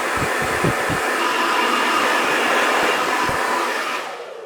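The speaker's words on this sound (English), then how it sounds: "So try and blow dry this natural parting out." A hair dryer blows steadily and loudly on hair for a few seconds, a constant airy whoosh that eases off at the end.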